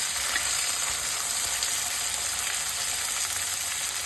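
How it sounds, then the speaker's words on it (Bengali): Onion and tomato fry in hot mustard oil with a steady, loud sizzle that holds without pause. "সরষে তেলটা গরম হয়ে গেছে, তেলের মধ্যে কেটে রাখা পেঁয়াজটা দিয়ে দেবো"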